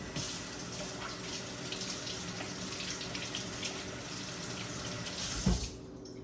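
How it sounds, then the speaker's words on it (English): A kitchen tap runs steadily into a sink while hands are washed during cooking of Jamaican curry goat, a close, continuous splashing stream that stops abruptly near the end. "So I'm just gonna go ahead and wash my hand"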